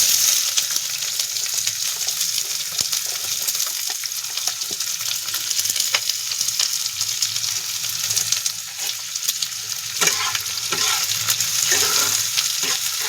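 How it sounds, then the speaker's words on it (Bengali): Onions fry in hot oil in a large wok, giving a continuous close sizzle with occasional stirring scrapes and clinks and no talking. "বড় কড়াইতে পেঁয়াজ ভাজিয়ে দিয়ে দেবো।"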